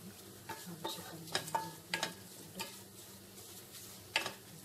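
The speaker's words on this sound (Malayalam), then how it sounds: "ആ മസാലകളെല്ലാം മൂത്ത് വരുന്നത് വരെ നമുക്കിത് ഇളക്കിക്കൊണ്ടേയിരിക്കാം." A spoon stirs spice masala sautéing in a pan for beef pickle, giving close, irregular scraping clinks and taps over a faint, low sizzle.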